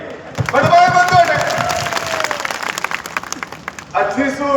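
Crowd at a political rally over the Neem Ka Thana district demand claps and cheers in a dense, steady wash, with a loud shouting voice over it.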